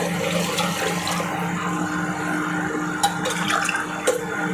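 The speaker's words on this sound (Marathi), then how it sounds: "याच्यात 2 ग्लास पाणी टाकणार आहे" Water is poured from a glass into fried chicken in a pot for a Marathi black-masala chicken curry, giving a steady, close splashing gush with a couple of brief clinks near the end and no talking.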